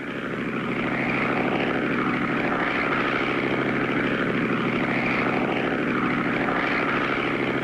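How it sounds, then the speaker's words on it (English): A propeller crop duster airplane sprays cotton fields, its engine droning steadily and fairly loud as it passes, with a gently rising and falling tone and no voices. "Clutch and Company make pass after pass up and down the rows of cotton until they reach the final row"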